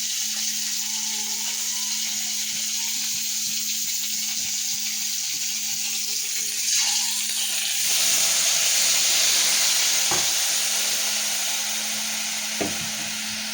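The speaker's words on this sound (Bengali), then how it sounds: "প্রথমে কাঁকড়ার দাঁড়াগুলো দেওয়া হয়েছে" Crab claws frying in a pan give a steady, gentle sizzle, with a few soft knocks and stirring sounds and a brief swell of hissing partway through.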